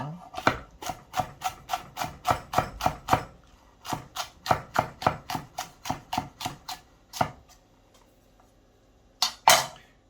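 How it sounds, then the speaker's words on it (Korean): A knife slices chili peppers on a cutting board while preparing braised pork belly kimchi stew at home: a quick, steady run of about twenty crisp, close chops with a short pause near the end and one final cut. "고추도 썰어 줄게요"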